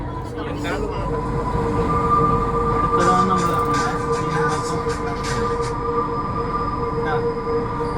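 Chennai Metro train heard from inside or on the platform at an underground station, a steady close rumble with rail noise and a high whine throughout, people talking faintly beneath it.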